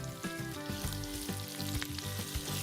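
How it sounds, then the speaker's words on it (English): Onions frying in hot oil with cumin and mustard seeds, a steady close sizzle with scattered pops and spoon stirs running through the whole stretch. "So when you hear the mustard seeds starting to sizzle and pop, in go the onions."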